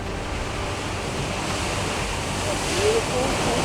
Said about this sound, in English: jet geyser right here just started erupting